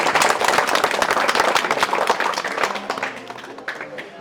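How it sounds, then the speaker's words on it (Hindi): A group bursts into loud applause during a hostel visit with students, close dense clapping that gradually thins and fades, with a voice faintly audible toward the end. "जोरदार तालियां"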